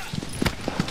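Horse hooves trot in Shadow of the Colossus, a few quick irregular thuds within one second, close and fairly loud with no speech.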